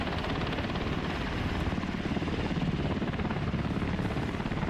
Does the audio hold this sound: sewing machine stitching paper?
no